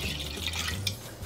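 Water, 100 ml, poured into a small bowl while making edible finger paint, a brief close trickling splash with faint dripping.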